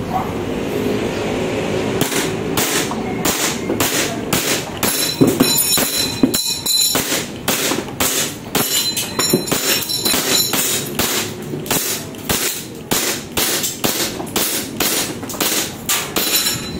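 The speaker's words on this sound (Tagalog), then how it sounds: "test fire natin, no, WE Glock 17 Gen 5 test fire" WE Glock 17 Gen 5 airsoft pistol fired repeatedly in a shop, a long run of sharp evenly spaced cracks, loud and close, with someone talking faintly in places.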